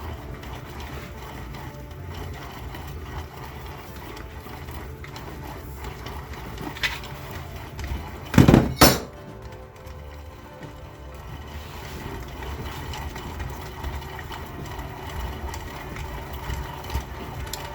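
A small motor in a DIY rock tumbler spins an empty drum with no load, giving a steady mechanical hum and whir, with a brief louder clatter midway before the drone settles back to an even level.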